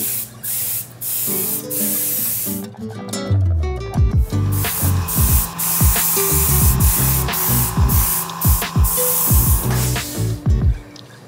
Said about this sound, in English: I prepare over here my spray gun.